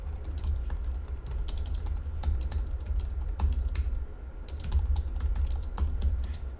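Steady, dense clicking of keys on a computer keyboard while code is typed, close and continuous with a low background hum, no voices.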